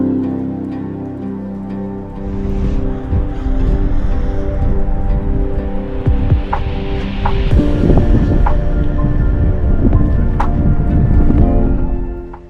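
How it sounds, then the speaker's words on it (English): Strong wind on a coastal headland in Madeira buffets the microphone in gusty, rumbling bursts that rise and fall, loud and close, with no voices. "I was going to send a drone out, but it's quite windy"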